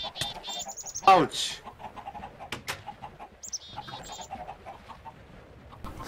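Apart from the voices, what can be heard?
chickens clucking in video game Minecraft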